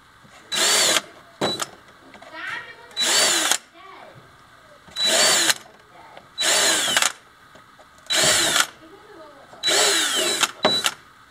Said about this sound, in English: Drill some little holes, use some strings, and sew it on.